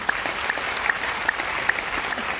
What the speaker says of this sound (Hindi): चलिए सभी स्पॉन्सर मेंटर के लिए जोरदार तालियां